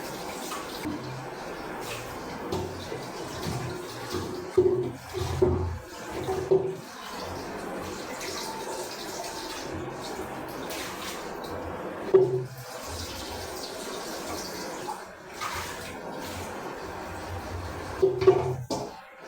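Steady running water pours and splashes into a container for a long stretch, with a few brief clinks and bumps along the way.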